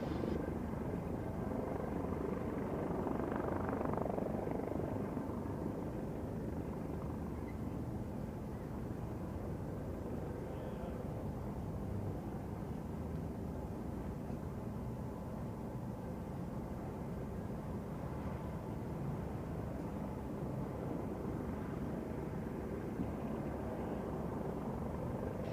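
A helicopter with a ducted fan tail instead of a rear rotor hovers steadily at an air race event, giving a continuous, even rotor and engine roar at moderate distance for the whole stretch, with no talk.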